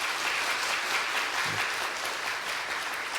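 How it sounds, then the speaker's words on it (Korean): A church congregation at a New Year's Eve service applauds deacons, a steady, dense roll of clapping that holds at an even level throughout. "인사하실 때 크게 박수해 주시기 바랍니다"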